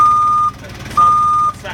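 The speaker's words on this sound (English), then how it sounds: "You got a sensor and a beep that's going to make sure to let people know that you're backing up." Forklift reverse backup warning beeper sounding two loud, steady electronic tones with a short gap between, close by over a low engine rumble.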